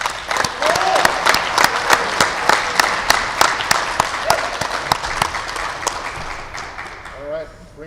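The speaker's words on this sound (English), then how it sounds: "round of applause." A crowd at a school signing day event breaks into brisk applause, dense and close at first and then thinning out toward the end, with a few voices audible underneath.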